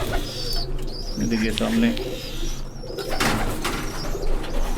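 Breeder pigeons coo softly in a loft, low throaty calls repeating under a voice, with light rustling and occasional flutters nearby.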